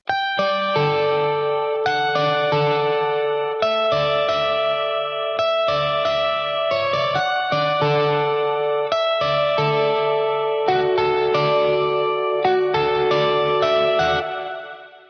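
MIDI electric guitar with heavy effects plays perfectly quantized, machine-precise notes and chords, every attack identical in strength, continuous for about fifteen seconds.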